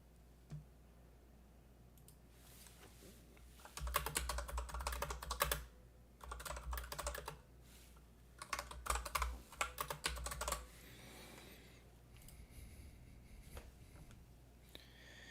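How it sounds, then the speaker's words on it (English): Hard, angry typing on a computer keyboard comes in several bursts of rapid, loud clacking keystrokes with short pauses between, heard close up without speech. "Like you guys can really hear me hammering down on those keys. The angry typing."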